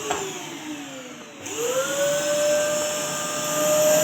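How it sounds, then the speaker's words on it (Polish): A vacuum cleaner being tested for suction power, running loud and steady; its motor pitch dips and then rises sharply as it spins up, holding a strong whine to the end with no talk. "Dobra, sprawdźmy siłę ssącą odkurzacza."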